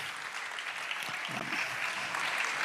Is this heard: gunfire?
no